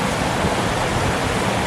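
A river rushing beside a bridge in the Otira Valley, Arthur's Pass National Park, as a loud, constant broadband roar of flowing water, close by and with nothing else heard.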